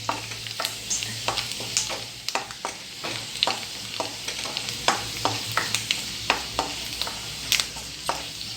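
Coconut pieces roast in a pan for chicken dry roast, a gentle sizzle under frequent light scrapes and taps of a spatula in an irregular stirring rhythm, close by, with no one speaking.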